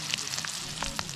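Tempeh fries in hot oil with a soft, continuous sizzle and small pops, close by and fairly quiet, brief and without voices.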